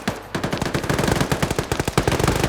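Sustained automatic fire from an M249 with a 200-round belt in a tactical shooter match, a loud rapid rhythmic stream of shots near the listener with no pause for about two and a half seconds.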